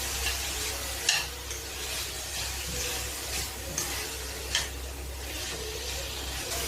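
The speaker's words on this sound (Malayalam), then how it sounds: "ഇനി ഇത് നന്നായിട്ടൊന്ന് ഇളക്കി കൊടുക്കുക." Capsicum and mixed vegetables fry in a pan with a steady sizzle while a spoon scrapes and stirs them, giving a few sharper clinks against the pan.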